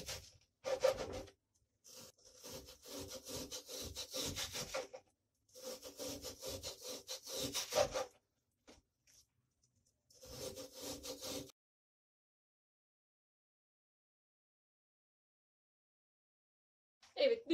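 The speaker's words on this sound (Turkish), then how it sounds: "Evet, bütün hepsini kestim." A knife slices through cooked homemade chicken doner meat in repeated rhythmic sawing bursts separated by short pauses, close and fairly quiet, ending in a long silence.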